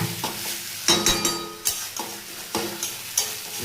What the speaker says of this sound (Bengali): পটলের সঙ্গে সবগুলো ভালো করে মিশিয়ে নেবো, যাতে ভালোভাবে টেস্টটা ঢুকে।